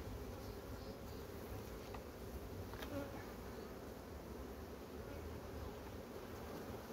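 Honeybees buzz around hive frames in an apiary. The hum is faint and continuous, with a soft airy background and no clear voices.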